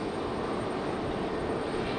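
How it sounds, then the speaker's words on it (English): A Delta Boeing 737-900 airliner at Raleigh-Durham airport, its engines giving a steady broadband roar from a moderate distance, unbroken across a couple of seconds. "Now we've got a Delta, that's 737-900. That one getting ready to head back to Atlanta."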